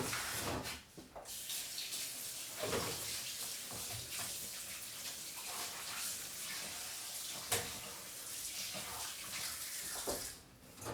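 Pork bones being rinsed under a running tap, a steady splashing rush of water with brief pauses and shifts as the bones are turned, close and alone with no talk.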